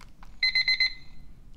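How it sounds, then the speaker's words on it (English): A short electronic alarm from a rug with a built-in alarm clock beeps in a quick burst of four rapid, high-pitched pulses, fairly loud, then fades into quiet. "this is what all the alarms sound like"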